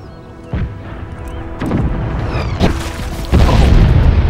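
Cannon fire from artillery in the Total War: Empire 2 strategy game: four deep booms land about a second apart over a steady rumble of battle, each hit loud and sharp, with no talking.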